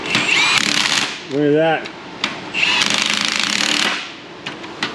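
An impact wrench with chrome sockets works on a Jeep being repaired: two loud, close, rattling bursts, the first about a second long and the second longer, with a short spoken remark in the pause between them.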